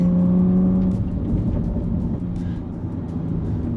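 A Bentley Bentayga Speed W12 SUV gathers speed on the road, its engine a low, steady drone under broadband road and wind rush, heard from inside the cabin with no talking.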